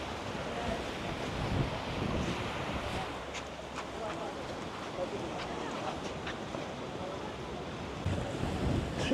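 Low surf washing onto the beach at Maspalomas shortly before high tide, with small waves rather than big breakers. It comes as a steady, full hiss of water close by, with wind buffeting the microphone throughout and no clear breaks.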